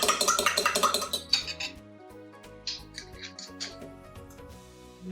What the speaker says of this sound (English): if you don't have a whisk, you can use a fork